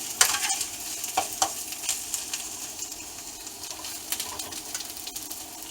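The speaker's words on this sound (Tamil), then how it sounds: "போட்டு இதை நன்றாக கிளற வேணும் நல்ல ஹீட் வர வேணும்" Vegetable egg fried rice being stirred in a hot pan: a close, steady sizzle with scraping strokes of the utensil against the pan, at an irregular rhythm and with no voices.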